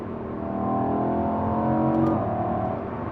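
Lamborghini Huracan EVO driving in eco mode on Dubai roads, a steady droning engine hum that rises slightly and holds, smooth and continuous with no talking.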